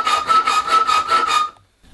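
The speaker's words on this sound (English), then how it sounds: "With the rod 10 to 12 millimetres proud of the vise, file a flat" A hand file strokes across the end of a metal rod clamped in a vise, making six steady, loud rasping strokes close by before it stops.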